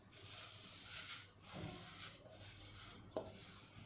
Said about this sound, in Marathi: कढई मी चांगली तापवून घेतलेली आहे आणि आता या कढईत मी हे पोहे घालते.